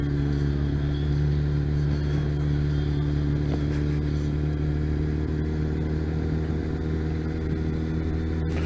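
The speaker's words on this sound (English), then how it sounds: "Because it is a 600 inline 4, so you've got to make them scream." A Kawasaki ZX-6R 600 inline-four motorcycle engine holds a steady, loud, close drone for the whole stretch, with a constant high-revving whine and some mechanical clatter but no sharp rise or fall.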